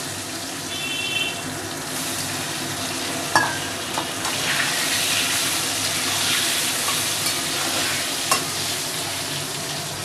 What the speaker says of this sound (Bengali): এবার আমি ওই তেলের মধ্যেই দিয়ে দিচ্ছি আগে থেকে কেটে রাখা নুন হলুদ মাখানো আলুগুলোকে ভালো করে ভেজে নেব।